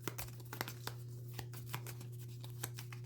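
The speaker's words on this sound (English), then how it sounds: "So we shuffled up the bystander cards, the secret missions in there" Bystander cards for a Marvel Zombies Zombicide board game being shuffled by hand, a quiet run of soft papery flicks and taps over a steady low electrical hum, with no talking.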